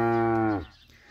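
A young calf, one of last year's calves on a farm, lets out a single loud, close moo with a rich harmonic tone that fades after about half a second into quiet background.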